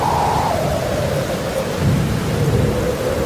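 Heavy rain pours steadily with a deep rolling rumble of thunder underneath, loud and continuous, with no voices.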